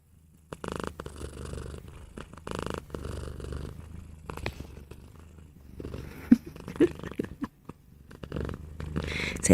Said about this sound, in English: I purr really loud.